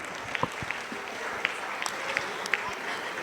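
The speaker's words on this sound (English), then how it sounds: "Let us applaud for their effort." Audience applause at an ORTUS International School event, thin and fairly distant, with scattered sharper claps over a soft background wash and a few faint murmurs.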